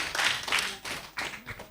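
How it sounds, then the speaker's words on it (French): Children and adults at a holiday camp event clap briefly after a child's quiz answer, a short, uneven spatter of a few hands in scattered bursts, fairly quiet. "on l'applaudit encore très très fort"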